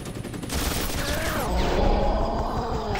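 Loud, dense rattle of rapid gunfire layered over a roaring helicopter in X-Men Origins: Wolverine, close and continuous throughout, with a descending mechanical whine partway through.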